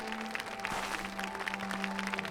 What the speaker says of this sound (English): The queen enters and I'm walking behind her. Wida and Palpamio are cheering me on